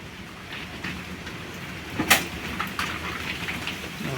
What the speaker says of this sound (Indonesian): di tempat saya lagi angin kencang ini. Anginnya kencang kali di sini. Mungkin faktor karena hujan terus.